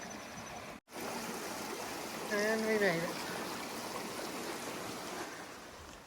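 Steady rushing of a mountain stream at a water source along the Tahoe Rim Trail, a continuous wash of flowing water that briefly cuts out and carries a short spoken phrase partway through.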